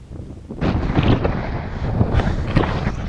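Gusty wind buffeting a microphone at an open viewpoint on a castle, a steady rumbling roar that swells after a quiet start and stays loud with pulsing gusts.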